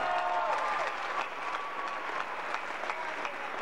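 Audience applause at an Italian event honouring a young contributor: a dense, steady wash of clapping throughout, with a faint whistle-like tone near the start.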